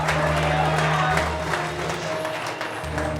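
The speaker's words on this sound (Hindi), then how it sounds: "जोर से ताली बजाएंगे" A church congregation claps loudly in a steady, dense wash of applause at a Hindi worship service, with sustained low musical tones underneath throughout.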